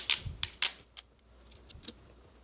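A handful of quick crackling rips and taps, loud at first then softer, as Scotch tape is pulled off a roll and pressed around rolled sandpaper, with brief silence between.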